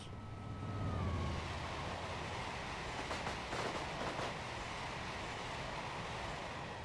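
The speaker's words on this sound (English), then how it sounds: "I got another 66 coming here with some aggregate cars." A Class 66 locomotive hauling aggregate cars rolls past in Train Simulator, a loud continuous rumbling roar with a falling engine tone at first and rhythmic rail clatter midway, no voices.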